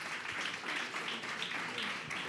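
A church congregation applauding: steady, dense clapping that sounds somewhat distant and soft, continuing for a couple of seconds.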